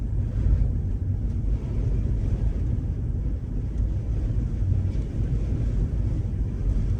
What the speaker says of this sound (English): That wind is ferocious.